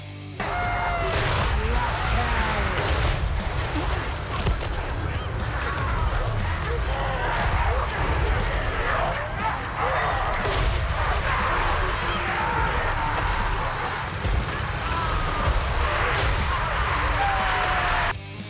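Cannon fire in Total War Warhammer 3, a dense battlefield of repeated sharp booms and crashing impacts bursting every few seconds over a constant low rumble of fighting.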